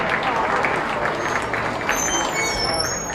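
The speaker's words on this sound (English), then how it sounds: "Let's give these exhibitors a nice round of applause." Audience applause for exhibitors at a 2024 county beef cattle show, a steady wash of many hands clapping close by, with faint crowd murmur mixed in.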